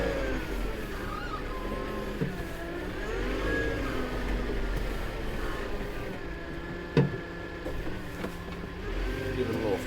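A loader with a grapple attachment, used while grading a shed site for concrete, has its engine throttled up to a steady drone under a person talking, with a brief clunk partway through.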